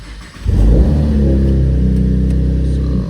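A 5th gen Chevrolet Camaro engine starts up in neutral and settles into a loud, steady, close-up running drone with no talking.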